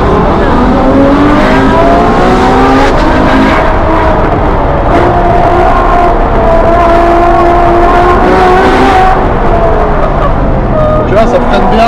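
A Ferrari with an 800 hp engine drives along, its loud continuous engine note rising and falling through gear changes, with tire and road noise throughout and a person talking over it.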